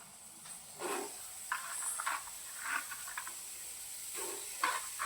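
Chili and red pumpkin frying in a small amount of hot oil in a pan, giving a faint, steady hiss with soft crackling bursts, heard close with no talking.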